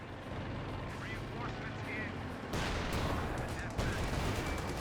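Anti-tank gun fire in a World War II strategy game, with heavy booming blasts and rumbling artillery-like bursts over a dense battle din, a louder shot near the middle and another later; a voice talks over the action.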